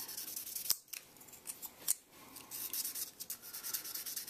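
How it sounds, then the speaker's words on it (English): Super fine grit sandpaper rubbed over an Atari 2600 Phoenix game cartridge, quiet close scratchy strokes with a couple of sharper scrapes, alone without talk. "Like with all the other games, I use that super fine grit sandpaper. Make it nice and shiny."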